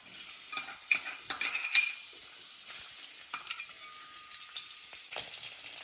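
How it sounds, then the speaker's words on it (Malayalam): Chopped coconut pieces roasting in hot oil for a Kerala chicken roast, crackling with a dense, bright sizzle and scattered pops and spoon scrapes, close by with no voices. "അപ്പം നമ്മളെ എണ്ണ നന്നായി ചൂടായിട്ടുണ്ട്. അതിലേക്ക് നമുക്ക് കൊത്തി വെച്ച തേങ്ങാക്കൊത്ത് ഒന്ന് മൂപ്പിച്ചെടുക്കാം."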